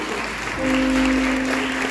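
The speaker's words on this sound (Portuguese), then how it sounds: "Pode bater palmas" Congregation clapping during a Wednesday evening church service, a soft wash of hand claps joined midway by a sustained tonal hum, likely an organ or keyboard note, holding to the end.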